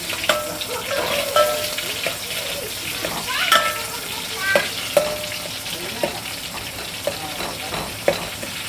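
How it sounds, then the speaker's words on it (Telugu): Curry leaves, garlic and cumin fry and crackle in hot oil while being stirred, a close steady sizzle broken by sharp spatters and utensil scrapes, with a voice talking over it. "ఇప్పుడైతే కరివేపాకు, ఎల్లిపాయ, జీలకర్ర వేసేస్తున్నాను."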